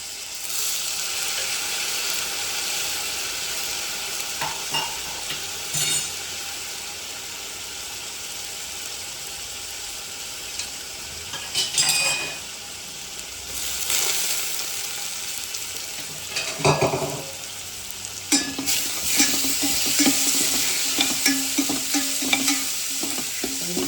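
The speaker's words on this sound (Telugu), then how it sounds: "కొద్దిసేపే ఉడికించుకుంటే బాగుంటుంది ఆకుకూర" Leafy greens sizzle softly in a pan as a spoon stirs and scrapes in repeated bursts, close up, with occasional clinks against the metal and no talking.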